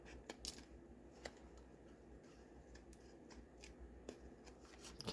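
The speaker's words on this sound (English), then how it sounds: "we're going to cut this excess off here" Scissors snipping excess paper off a handmade tri-fold tag, a few quiet, scattered cuts against a faint, near-silent background.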